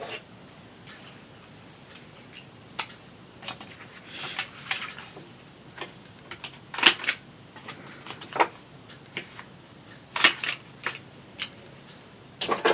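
Crisp paper punching from a corner rounder used on a handmade craft card, sharp clicks and snaps scattered over several seconds at close range, with light handling rustle between them and no talk.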